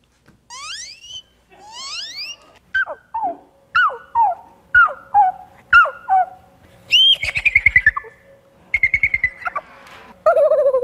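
A person imitates a series of different bird songs, producing clear whistled chirps, rising sweeps, trills and warbles in short separate bursts, close and loud with brief pauses between calls.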